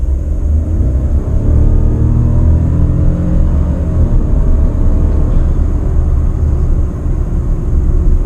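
A Citroën Basalt Dark Edition accelerates, its engine and road noise forming a loud, continuous low rumble heard from inside the cabin, with the pitch climbing slightly over the run.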